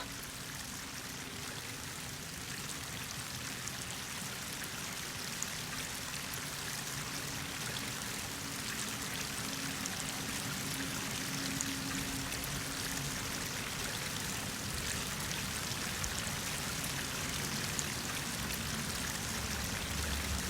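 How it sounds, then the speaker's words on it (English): Waterfall in the video game Horizon Forbidden West, a steady broadband rushing pour held at an even moderate level for the whole stretch, with no voices. "That waterfall must be coming from somewhere."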